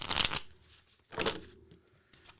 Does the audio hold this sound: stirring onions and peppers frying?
no